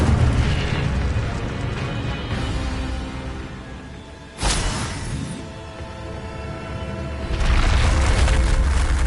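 Incendio fire spell cast in Hogwarts Legacy on PS5: a sharp whooshing burst midway through a dense roaring game soundscape, followed by a louder swell of rumbling fire and effects near the end.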